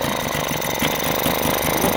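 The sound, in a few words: Mariner 3.3 hp outboard engine running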